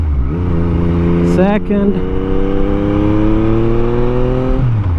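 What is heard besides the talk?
Yamaha MT-09 SP motorcycle accelerating, flashed ECU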